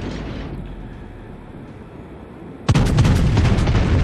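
A German Konig Albert tier 3 battleship in World of Warships fires its main guns: a low rumbling engine-like bed, then a sudden heavy boom that leaves a loud sustained roar and crackle.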